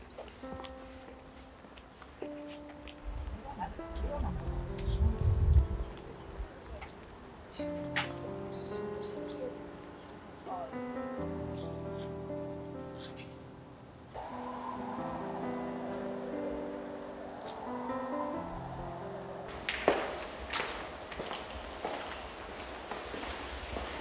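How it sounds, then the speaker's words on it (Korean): Crickets chirp steadily outdoors in the morning along a quiet path near a traditional archery range, while birds sing varied, warbling calls nearby and footsteps and rustling come and go. "맑은 공기에 새소리, 풀벌레 소리까지 들을 수 있으니까"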